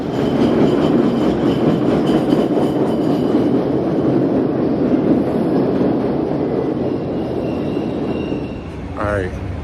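Steady rumble and rattle of a passenger train in motion, continuous and fairly loud, with a brief squeal near the end; faint voices murmur in the carriage.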